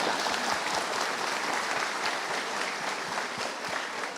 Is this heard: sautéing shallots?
no